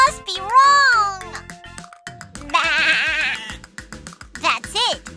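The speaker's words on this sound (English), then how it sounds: "This is the sound of a fluffy sheep!" Cartoon-style sheep bleats in a children's farm animal song, two wavering drawn-out cries separated by a child's bright speech and musical sounds.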